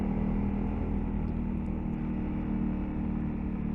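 A 2022 Honda CRF300L motorcycle engine runs steadily while riding at about 30 mph, a constant low droning hum with wind rush, close and loud throughout with no talking.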